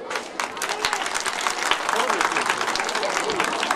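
An audience claps steadily at an outdoor highland festival in Cimide, Görele, Giresun. The dense, crackling applause holds for several seconds, and voices carry over it.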